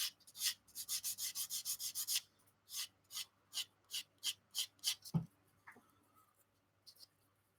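A 1/24 Airfix Spitfire plastic model kit is sanded by hand in close, regular strokes. The rasping passes come quickly at first, then slow to evenly spaced single strokes, with a soft knock near the end and no talking.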